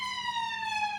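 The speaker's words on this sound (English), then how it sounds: "You hear the sirens going." A London ambulance siren passing a bus in the city, a loud, steady high-pitched wail held throughout the brief moment, with the pitch gliding slightly downward.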